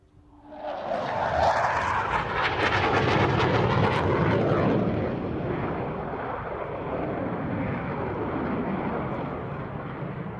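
A Hawker Hunter jet roars past at an airshow, a loud broadband rush building quickly, peaking as it passes, then settling into a fading, sustained jet rumble.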